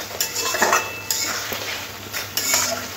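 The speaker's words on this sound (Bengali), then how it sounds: "আলুগুলো খুব ভালো করে একটু মশলার সাথে একটু কষে নিতে হবে" Potatoes with spices are stirred in a pan for a katla fish curry, with a metal utensil scraping and clinking against the pan in several short strokes over faint sizzling.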